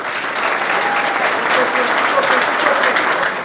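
An audience applauds at a live final face-off event, a dense, loud, steady wash of clapping from many hands close by, filling the whole moment.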